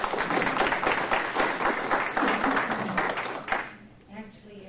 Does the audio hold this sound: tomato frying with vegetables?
no